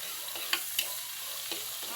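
Tomatoes and onions frying in a pan while being stirred, a steady hissing sizzle broken by a few quick scraping strokes of the spatula.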